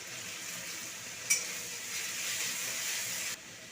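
Ginger, garlic and tomato spice paste hitting onions already fried golden-red in a hot pan, giving a steady close sizzle with a brief sharp crackle as it goes in, then a fuller hiss.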